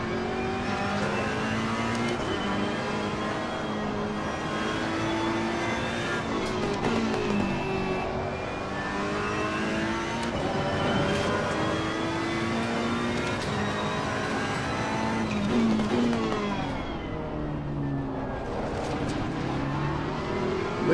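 A race car engine in Assetto Corsa Competizione roars steadily throughout, its revs rising and falling through gear changes as the car is driven hard, with no talk over it.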